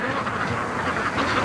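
Ducks at a lakeside quack in a short, agitated burst, several calls overlapping fairly close by against outdoor background noise.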